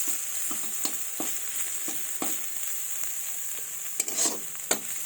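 Fenugreek greens fry in a pan with a steady, close hiss, broken by scattered soft clicks and scrapes of a spatula moving the leaves, with no talking.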